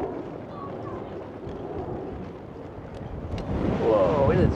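Strong wind buffets the microphone outdoors in Washington DC, a steady low roar that swells louder near the end, with voices talking faintly underneath.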